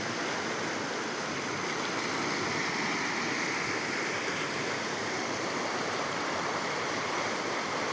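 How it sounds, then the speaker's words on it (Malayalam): A village stream beside paddy fields flows steadily, its close, continuous broadband rush of water unbroken and alone, with no voices or other sounds throughout. "ഞങ്ങളുടെ തോട്"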